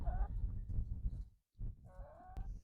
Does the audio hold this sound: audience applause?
no